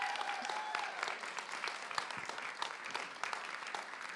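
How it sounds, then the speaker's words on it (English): Audience applause for a panel of speakers at a political organizing event, dense steady clapping from a crowd with a brief whoop near the start. "big round of applause for all our speakers"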